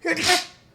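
A single sharp sneeze bursts out close and loud, then trails off quickly into a short breathy tail, with nothing else heard around it.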